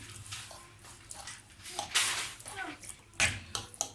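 Water is poured into a pot of meat pie filling with potato on the stove, giving a couple of splashing gushes amid stirring and clinks, while a voice is heard in the background.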